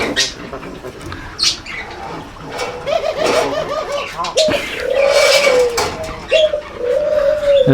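Lotan pigeons coo loudly and repeatedly close by, with soft throaty warbles and some wing flutter against a busy loft background.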